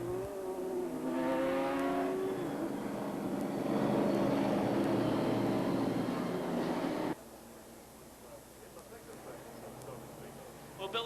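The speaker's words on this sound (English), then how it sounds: "Billy Penfold gets the car back underway." Stock car at Beech Ridge Motor Speedway accelerating back underway, its engine revving up and rising in pitch, then dropping away abruptly, heard under a speaking voice.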